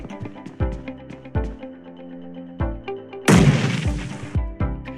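A grenade explodes in the mobile battle royale shooter BGMI / PUBG Mobile: one loud, broad, noisy blast partway through, set among repeated dull thumps and tonal game sounds, with no voices.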